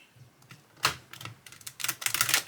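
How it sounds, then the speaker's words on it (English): Rapid papery clicking of a Queen of the Moon oracle card deck being riffle shuffled, a short burst followed by a longer, denser flurry of snapping cards close by. "I should be able to do the riffle shuffle with it"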